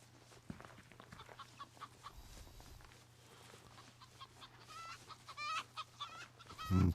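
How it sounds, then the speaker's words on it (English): Chickens cluck in a village scene of the video game Drizzlepath, with brief faint clucks scattered over a steady low ambient hum and a louder burst at the end. "Some chickens here."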